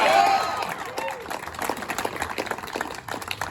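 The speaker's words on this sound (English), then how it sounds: "Now you clap." Audience at a Libertarian Party campaign rally clapping and cheering for a vice-presidential candidate, a shout at the start and then a scattered, fluttering round of applause.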